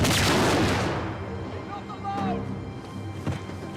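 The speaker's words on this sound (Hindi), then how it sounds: "चलो भाई, ग्रेनेड के साथ साथ वो भी फटेगा।" In the video game Uncharted 4, a grenade explodes with a loud, close booming blast that tails off, followed by scattered quieter thuds and faint debris, with someone talking over it.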